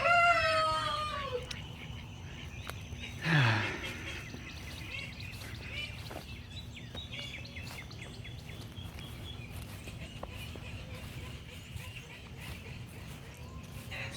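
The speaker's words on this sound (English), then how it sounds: "Seems that the chickens are doing okay." Chickens on a storm-hit homestead cluck and call, with a crow near the start and scattered clucks over a steady outdoor hiss, fairly faint and a little distant.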